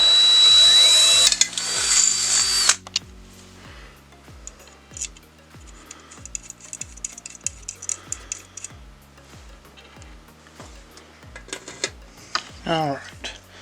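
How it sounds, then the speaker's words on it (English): A power drill bores a hole into a bicycle frame for a custom bottle cage mount, a loud steady whine for the first few seconds, followed by quieter ticking and clicking handling noises with brief rattles. "I'm just going to pick a random spot, drill a hole, and let's see if it works."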